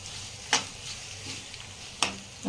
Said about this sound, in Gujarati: હવે આપણે અંદર તલ નાખીશું તલ થોડી વાર શેકાવા દઈશું અંદર ગરમ તેલમાં